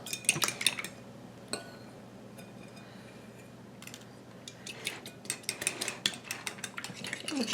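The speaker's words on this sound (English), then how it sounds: "We're just going to beat the eggs." Eggs are beaten in a bowl with a utensil, heard as irregular bursts of clinking and tapping against the dish, quiet in the middle and quickening toward the end, with no talking.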